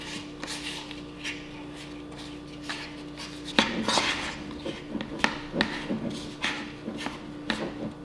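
Cake crumbs and frosting being stirred together in a bowl for an Easy Bake Oven recipe, with soft scraping and clinking of a utensil against the bowl in uneven bursts over a low steady hum.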